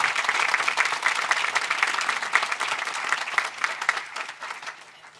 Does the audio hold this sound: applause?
yes